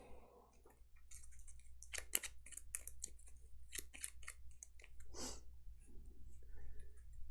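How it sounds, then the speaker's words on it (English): Cards for the board game Gloomhaven being shuffled by hand at close range, a series of soft riffling and clicking bursts in an uneven rhythm over a low steady hum. "Let's do the shuffling."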